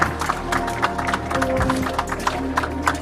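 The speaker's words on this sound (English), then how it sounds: "Round of applause for Peter." An audience claps for Peter at a 5G network launch event in Kenya, a burst of scattered, moderately loud applause with crisp individual claps over a low hum of the hall.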